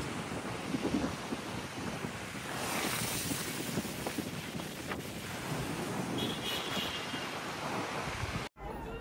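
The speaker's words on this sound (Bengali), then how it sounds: "পানির স্রোত" Waves and water current lap near boats at the sea shore of Cox's Bazar, a steady broadband wash with wind buffeting the microphone throughout, fairly close and continuous, ending in a brief dropout.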